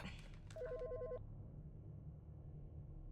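A telephone rings in the Autopsy Simulator video game, a single electronic trilling ring burst over a low steady room hum, then only the hum continues.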